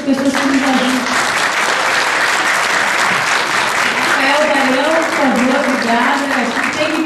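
An audience at a samba event gives sustained, dense applause for the musicians and teachers, with voices talking and calling out over the clapping.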